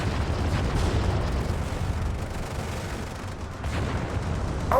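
A direct-hit explosion in the Cold War tactics game Graviteam Tactics, set in 1986 southern Africa, rumbling as a dense, loud, low boom with sustained battlefield noise and no speech.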